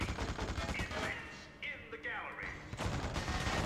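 Enemies fire guns in the horror action game The Suffering, with rapid bursts of gunfire and crashes filling the scene, a brief lull in the middle, while a voice speaks over the shooting.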